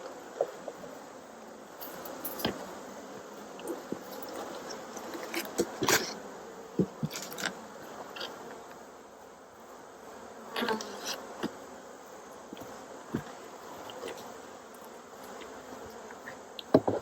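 Honeybees buzzing around a hive in Tennessee in October, a continuous soft drone with individual bees passing close now and then, faint and alone.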